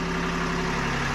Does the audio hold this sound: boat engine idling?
yes